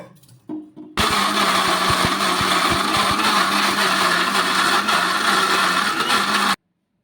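A mixer grinder grinding soaked lentils with a little water starts abruptly and runs loud and steady with a high whine and rattling churn, then cuts off sharply.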